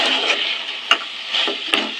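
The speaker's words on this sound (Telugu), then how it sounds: "మధ్యలో ఇట్లా కలుపుతూ ఉండాలండి." Mutton rogan frying in a pan is stirred with a spoon, giving a steady close sizzle with several sharp scraping knocks against the pan.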